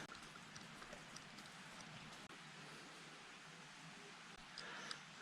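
Steady rain falls outdoors at a Korean Buddhist site, a continuous soft hiss of drops with no break and no talking.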